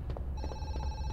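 An in-game telephone in the horror game Zoochosis rings with a bright electronic trill starting partway in, steady and moderately loud over a low rumbling background.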